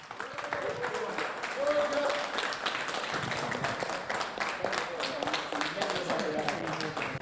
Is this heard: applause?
yes